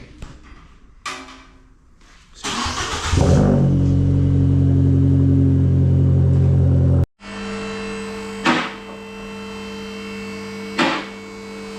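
A car engine cranks and catches, then idles loudly with a deep exhaust rumble. It cuts briefly and restarts, with a couple of blips of the throttle.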